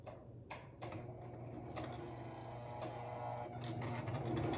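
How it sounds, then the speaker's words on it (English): A sewing machine stitches along the edge of a fabric pillow cover, a close mechanical whir broken by several sharp ticks and clicks that builds steadily louder, with no voices. "So I'm going right up next to that edge with my sewing machine."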